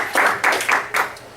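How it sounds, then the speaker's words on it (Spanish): A church congregation claps briefly in four or five loose bursts of handclaps, close and fairly loud, with no talk over them. "Denle unas palmas a Dios."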